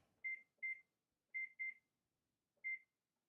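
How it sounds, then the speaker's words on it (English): A kitchen oven timer being set gives five clear, short electronic beeps in an irregular pattern: two close together, a pause, two more, then a final single beep, close and alone in a quiet room. "I'm going to set the timer."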